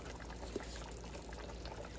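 Water poured into Argo cornstarch to make a slurry for pork pot gravy, a faint, steady liquid pour with a small splash, heard alone in a quiet kitchen.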